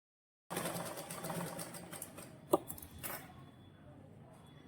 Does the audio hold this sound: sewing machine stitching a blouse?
yes